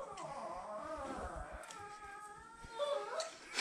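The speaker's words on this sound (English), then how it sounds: "You hear the dog." Dog whimpering and whining faintly in the distance during subfloor repair work under a toilet, thin high-pitched cries drifting over a low background rumble.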